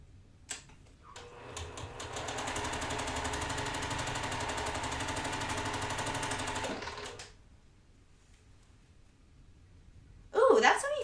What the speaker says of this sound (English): We're going to just continue sewing and chain piecing this all the way down